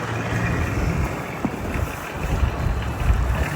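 Strong wind during a snowstorm in a Moscow park roars loudly and steadily, buffeting the microphone with deep gusty rumbles and no voices.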